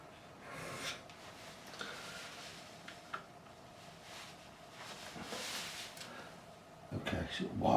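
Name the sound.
coarse file rasping guitar wood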